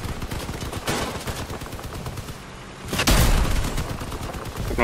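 Gunfire from vehicle-mounted cannons and machine guns in the video game Crossout, a dense, loud, rapid stream of shots with a heavier burst of firing near the end.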